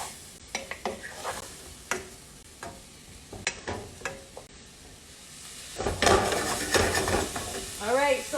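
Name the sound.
rice dumped and stirred in a frying pan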